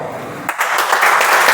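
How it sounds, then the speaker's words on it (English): Loud applause for a speaker at a Toastmasters club meeting, a brief burst of many hands clapping that starts abruptly after a muffled moment and continues as a steady, close wash. "can we have a huge round of applause for speaker number 1,"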